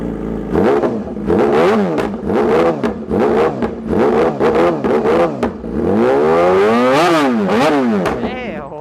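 Yamaha R6 2019 sport motorcycle with an SC Project slip-on exhaust, revved repeatedly in loud sharp bursts with rising and falling pitch, ending in a longer, higher rev, close and dominant.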